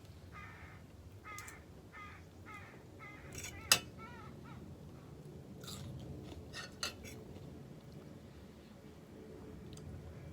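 Crows caw from big trees behind a backyard garden in a rhythmic run of calls that stands out over a quiet background. Nearby chewing and crunching sounds come through faintly.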